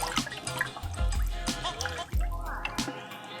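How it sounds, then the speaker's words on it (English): A water glassing solution for preserving eggs is stirred by hand, giving soft liquid sloshes and dribbling splashes in a few uneven surges, close and moderately quiet with no talking. "Okay, so I'm just going to stir this up"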